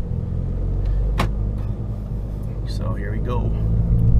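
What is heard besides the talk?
Fiat 500 Abarth engine heard inside cabin, windows up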